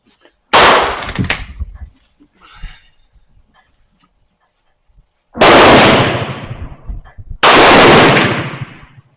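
Turkish Mauser rifle fired with commercial Mauser ammunition: three loud, sharp shots spaced a few seconds apart, each with a ringing decay, plus faint handling noise between.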